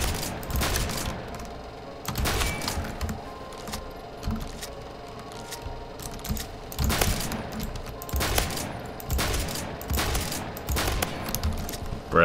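Rapid bursts of shotgun gunfire from buffed Saiga shotguns in the Phantom Forces online shooter, repeated blasts in quick succession with a busy, loud game mix throughout and no talking.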